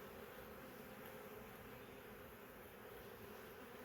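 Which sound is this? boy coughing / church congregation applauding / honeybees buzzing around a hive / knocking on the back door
honeybees buzzing around a hive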